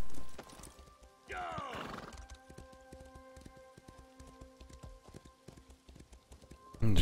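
Horse in the Elder Scrolls Online video game gives a loud rising neigh near the start, followed by a steady rhythm of clip-clopping hooves that continues throughout.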